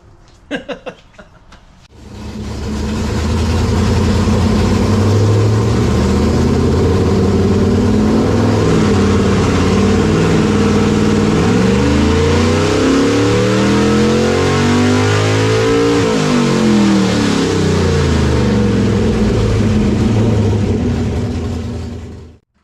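Nitrous-fed 339 cubic-inch stroker small-block Chevy truck engine revving hard on a hub dyno, firing up after a brief start and then holding a loud, sustained roar of rising and falling pulls for about twenty seconds before cutting off.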